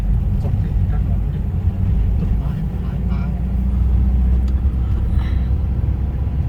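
A car climbing a winding mountain road in Bo Kluea, Nan, its engine a steady low rumble with road noise inside the cabin, while someone talks over it.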